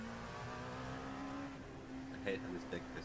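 Race car engines drone steadily behind the player in a racing video game, a sustained humming whine with a slightly rising pitch, and a few brief sharper noises break through near the end.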